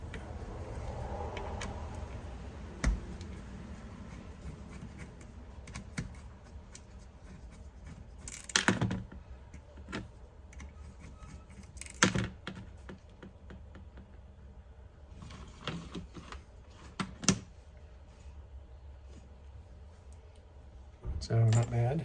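Hair clipper blades are taken apart in a workshop, producing small metallic clicks, clinks and scraping handling sounds at irregular intervals. A few sharper clacks stand out over a quiet background.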